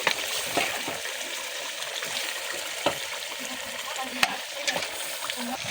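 Pieces of duck meat fry and sizzle in a pot, with a steady hiss broken by repeated scraping and clinking as the meat is stirred, close and continuous throughout.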